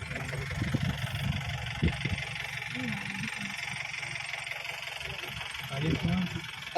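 A vehicle engine idles at low, steady volume near elephants in the wild, a constant rumble with people talking quietly over it.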